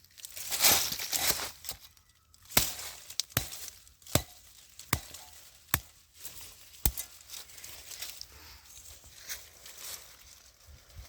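Sharp, isolated chops of a blade cutting crop stalks at the base in a farm field, a series of about eight crisp cuts spaced a second or so apart, with rustling of dry plant material between them.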